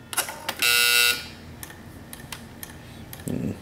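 A Western Electric Bell System 1A2 four-line key telephone intercom buzzer sounds once as a steady, loud half-second buzz, set among light clicks and handling taps of the desk phone.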